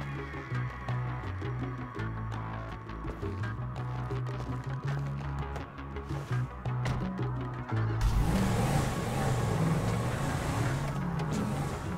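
A car driving in GTA 5 gives a steady engine drone beneath tonal, music-like layers, with the sound growing rougher and louder about two-thirds of the way through.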